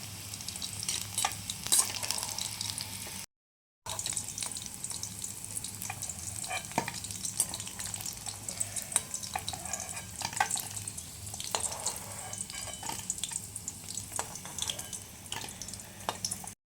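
Chicken balls deep-frying in hot oil, a continuous crackling sizzle with scattered sharp pops, steady and close, with a brief silent break near the start.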